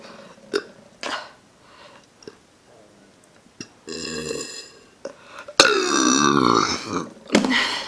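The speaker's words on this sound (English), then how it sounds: "That burp legit got stuck." A person burps repeatedly: short gulping croaks and brief belches, then a long loud drawn-out burp, followed by another short burst close to the microphone.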